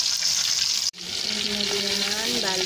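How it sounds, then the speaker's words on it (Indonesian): Marinated beef empal frying in hot oil until golden brown, giving a steady, close sizzling hiss that breaks off for an instant and then resumes as the pieces crackle on. "goreng hingga kuning keemasan"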